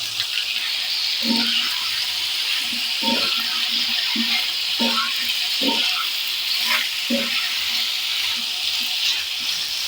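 Vegetable curry fries in oil in a pot, giving a steady hiss and sizzle throughout with faint scattered clinks and stirring sounds, with no talk.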